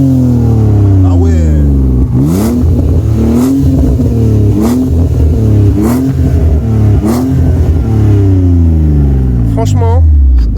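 Car engine accelerating repeatedly in a drift session, loud rising and falling revs with sharp bursts and a breathy, blowing whoosh like forced induction, close and continuous over roughly ten seconds.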